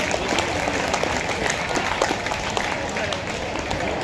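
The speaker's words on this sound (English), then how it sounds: "Let you energize yourself, clapping yourselves for this very happiest occasion." Children clap together at a school Children's Day event, a dense, steady patter of many small hands filling the room, with some voices mixed in under the clapping.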